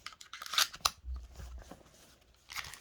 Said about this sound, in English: You'd have to take the mag out and slip it in like so